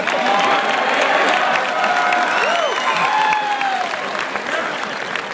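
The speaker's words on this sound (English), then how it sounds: "Let's applaud the fact that she's finally done" An audience at a live Q&A with Bruce Campbell bursts into loud, sustained applause mixed with cheers and whoops, fading slightly toward the end.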